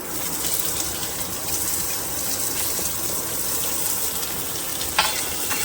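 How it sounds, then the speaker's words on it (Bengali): Chopped onions frying in hot oil with whole spices such as cumin and five-spice seeds, giving a steady, close sizzle with a brief clink near the end. "পেঁয়াজটা একটু লাল লাল করে ভেজে নেব।"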